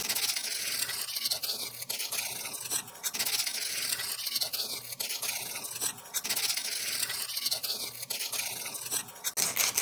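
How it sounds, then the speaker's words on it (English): Steady, dry rasping of sanding a Ferrari sun visor during repair, with continuous back-and-forth abrasive strokes close by and no voices. "Start sanding."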